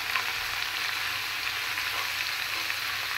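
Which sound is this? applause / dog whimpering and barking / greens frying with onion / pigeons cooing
greens frying with onion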